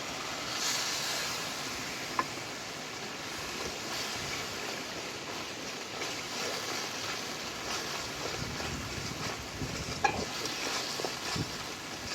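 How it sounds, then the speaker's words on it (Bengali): Spiced wash water poured into a pan of frying masala with chopped green chilli, giving a steady broadband hiss and crackle that runs the whole time at even loudness, with a couple of brief sharp ticks. "এবার আমি দেবো অল্প করে মশলা ধোয়া জল।"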